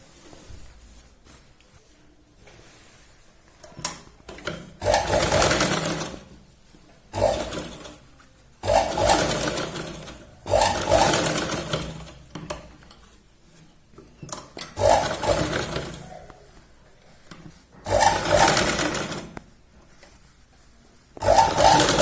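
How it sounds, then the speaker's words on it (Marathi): Domestic sewing machine running a double line of stitching on a Punjabi salwar, heard as several loud whirring bursts of a few seconds each, separated by short quiet pauses. "इथे आपण डबल शिलाई घेतोय"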